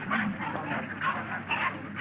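A dog in a 1930s mystery film whimpers and gives soft yips in short repeated bursts, fairly close, against a hissy old soundtrack.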